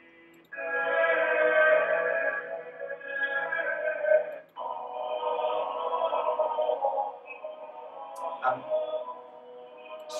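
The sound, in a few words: recording of 12th-century Notre Dame polyphony Viderunt Omnes, several voices singing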